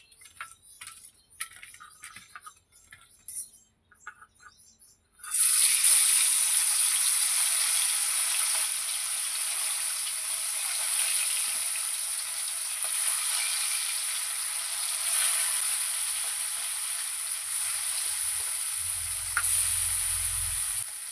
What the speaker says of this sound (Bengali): আমার তেলটা গরম হয়ে গিয়েছে, এবার আমি মাছগুলো ভেজে নেব।